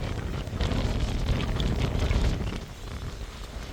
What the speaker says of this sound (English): It's also cold and windy.